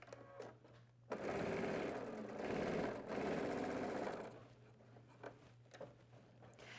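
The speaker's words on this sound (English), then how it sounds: "we're going to go ahead and start over here where the cuff is folded under, and we're going to stitch around." A sewing machine stitches around the folded-under cuff of a men's dress shirt, its motor buzzing steadily for about three seconds between quieter moments, close and with no speech over it.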